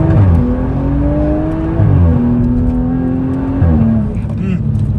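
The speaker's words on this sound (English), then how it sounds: "try going back into first gear again quickly and just putting my foot down" A 2022 BMW M135i hot hatch pulls hard from first gear, the engine note rising loud and close, then dropping with two quick shifts before climbing again.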